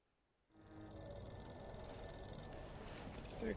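A telephone rings continuously inside the video game Mafia II, starting abruptly and holding steady at a faint, low level with no talking over it.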